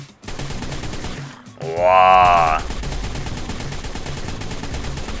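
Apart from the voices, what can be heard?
assault rifle gunfire, from video game ARK: Survival Evolved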